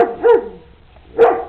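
Two sharp dog barks about a second apart, close and fairly loud, from one of several young dogs in a litter of puppies being sold, with quiet between them and no talk.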